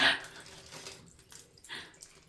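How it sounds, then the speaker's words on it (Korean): Water trickles and splashes from a plastic bag once a skewer is pulled out of it. The flow is close and uneven, with small gushes rising and fading. "빼는 순간 물이 나오기 시작하죠."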